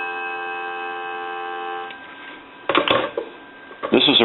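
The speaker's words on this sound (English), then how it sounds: "Give you some dial tone." A steady dial tone from a British Telecom desk telephone hums for about two seconds, then fades as soft clicks and handling noises follow.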